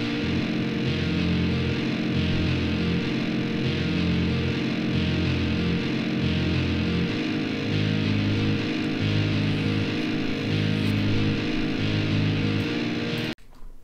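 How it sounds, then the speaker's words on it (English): Guitar solo excerpt with a bass line and a single-note rhythm guitar accompaniment, a dense, loud, continuous metal passage that cuts off abruptly near the end. "There's also a kind of single note rhythm guitar accompaniment, and together they sound like this."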